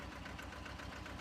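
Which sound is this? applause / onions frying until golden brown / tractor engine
tractor engine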